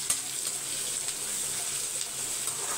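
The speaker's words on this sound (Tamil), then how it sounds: "ஆனியன் கொஞ்சம் ஃப்ரை ஆகட்டும்." Onion frying in a pan while cooking potato dishes at home, a steady soft hiss and sizzle running evenly throughout with a faint clink near the start.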